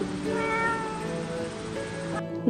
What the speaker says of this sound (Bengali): ক্যাটকে বাংলায় বিড়াল বলা হয়। তো এটা হলো ক্যাট, বাংলায় বিড়াল।